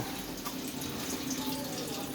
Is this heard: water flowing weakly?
yes